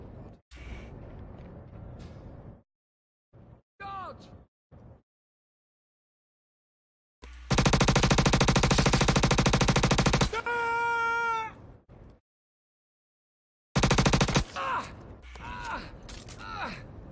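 Star Citizen gunfire comes as two loud, dense bursts of rapid automatic shots, one about three seconds long and a shorter one later, with meow-like whines and brief voices in between.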